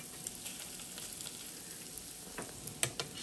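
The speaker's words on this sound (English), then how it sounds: "And then I pop it in my oil and it makes noise." Guacamole latkes fry and bubble in hot oil with a steady, soft sizzle, crackling with small pops that grow a little busier near the end, close by and fairly quiet, with no voices.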